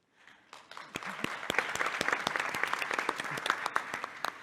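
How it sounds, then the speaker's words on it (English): Audience at a science and civil society panel breaks into applause for the panelists, rising from silence into a lively spread of sharp individual claps that swells and holds, fairly distant in a large room. "I would like to invite you to join me in a second round of applause"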